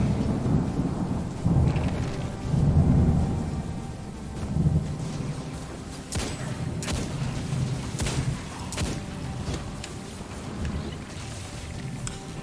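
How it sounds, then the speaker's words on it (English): Thunderstorm sound effect triggered from a soundboard during Destiny 2 play on PS4, with rolling thunder and several sharp cracks over continuous rain, loud and sustained. "Give you a little thunder strike there."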